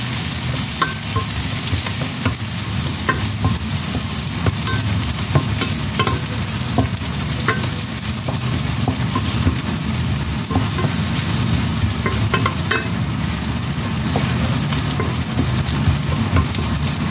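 Onions and garlic sizzle and fry in a pan for squid adobo, a steady crackling hiss with occasional stirring scrapes, close and continuous with no voices.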